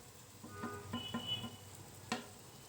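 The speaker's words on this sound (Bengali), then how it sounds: "এবার এটাকে আমি সুন্দর করে নেড়ে চেড়ে কষায় নিব।" Spices for a chicken biryani cooked with soy sauce and tomato sauce fry faintly in a pan, with a few sharp clinks and scrapes of stirring scattered over a quiet, low sizzle.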